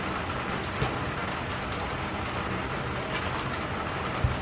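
Rain falls on a car's sky roof, a dense, steady patter heard from inside, with a few sharper drips standing out.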